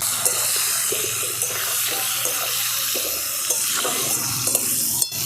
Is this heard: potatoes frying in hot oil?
yes